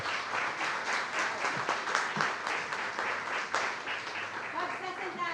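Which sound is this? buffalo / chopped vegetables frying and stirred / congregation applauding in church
congregation applauding in church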